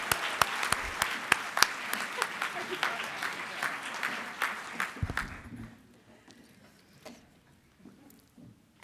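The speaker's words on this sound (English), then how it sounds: "Can we give her an extra round of applause?" An audience at a September 11 memorial ceremony gives a round of sharp, distinct claps that are loud at first and then thin out to scattered claps, with a voice talking near the end.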